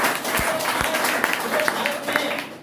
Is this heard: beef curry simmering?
no